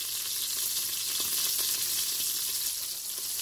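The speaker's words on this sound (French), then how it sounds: "Quand l'huile est bien chaude, j'ajoute les saucisses et l'oignon" Sausages and chopped onion sizzle in hot oil inside a Cookeo cooker, a steady, bright frying hiss that stays loud and close throughout, with no talking.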